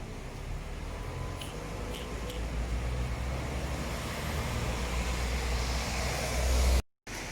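Outside in cold weather, a car's engine and tyre rumble build steadily as it draws near, then the sound cuts out abruptly near the end.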